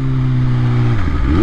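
A superbike engine hums steadily as it's ridden over a bridge, its tone dropping and then swelling again near the end, loud and continuous with no voices.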